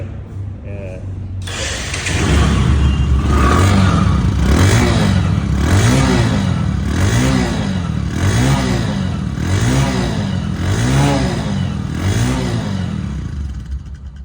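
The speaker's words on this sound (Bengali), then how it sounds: "ইঞ্জিনের সাউন্ডটা না শুনলে আপনারা বিশ্বাস করবেন না" A 100cc Bajaj Discover motorcycle engine starts after a quiet second and runs steadily up close, with a loud mechanical drone that swells in regular, roughly one-second pulses as if lightly revved.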